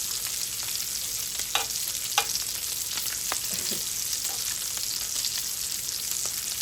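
Bacon fries on a griddle with a loud, steady hiss and crackle throughout, plus a few brief scrapes and taps from a utensil moving the strips, close up and without talk.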